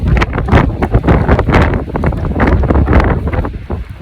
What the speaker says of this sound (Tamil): காற்று தான் என்னை பின்னாடி வந்து அப்படியே தள்ளிட்டு வருது